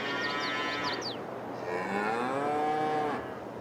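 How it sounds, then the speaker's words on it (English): Cows in Farming Simulator 22 moo in long, loud, close calls, one after another over a steady farmyard background with chirping birds. "Give the rest to the cows."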